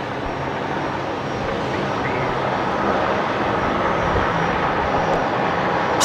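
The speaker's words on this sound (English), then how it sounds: "But Link Airways Saab coming in here." Link Airways Saab turboprop arriving at Brisbane Airport, a steady, loud broadband engine roar that holds at an even level throughout, with no distinct individual sounds breaking through.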